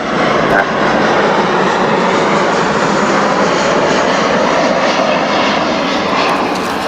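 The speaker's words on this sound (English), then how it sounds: "Airplane, sorry." An airplane passes overhead with a loud, steady broadband engine roar that fills the whole stretch and stays near constant, with no talking over it.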